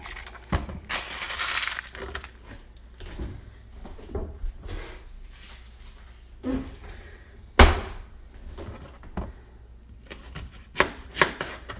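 Onion being peeled by hand in a home kitchen while Thanksgiving food is prepared, heard as close, sporadic papery crackles and scrapes with a few sharper knocks against a board, no talking.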